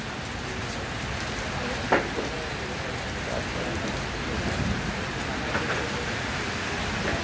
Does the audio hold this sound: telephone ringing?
no